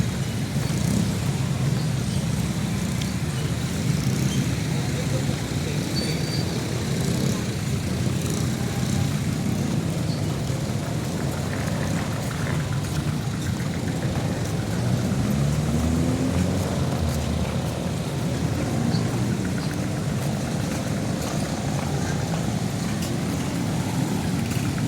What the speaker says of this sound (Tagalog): Traffic, sobrang traffic sa Dagupan.